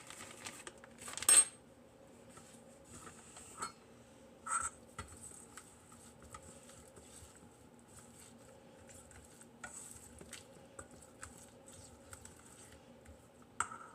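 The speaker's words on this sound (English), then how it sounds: "So we're just gonna put in some and stir and see what happens." A spoon stirring a chocolate mixture in a bowl, faint scattered clinks and scrapes with a few louder taps against the rim.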